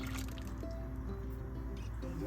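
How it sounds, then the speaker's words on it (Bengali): Dissolved powdered milk poured into simmering Gobindobhog rice payesh in a pot, a faint liquid trickle and dripping with soft squishy sounds, heard close and alone. "আমি যে গুঁড়ো দুধ দিয়ে দুধটা গুলিয়ে রেখেছিলাম এটা আমি এর মধ্যে দিয়ে দেবো"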